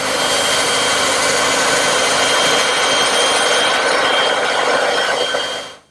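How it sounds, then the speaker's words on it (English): Bandsaw roughing out the grip ends of wooden wheelbarrow handles, a steady loud whining cut that runs without a break for about six seconds and then stops. "Then I'll rough them out on the bandsaw."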